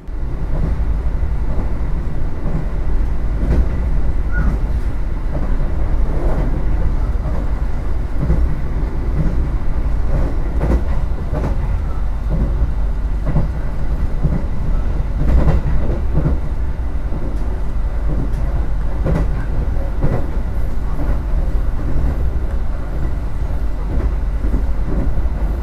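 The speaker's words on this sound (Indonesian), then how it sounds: "apabila kita naik kereta api dari Jakarta menuju ke Semarang" Blambangan Ekspres passenger train running on rails between Jakarta and Semarang, heard from inside as a steady loud rumble with rhythmic clatter from the wheels, continuous with no talking.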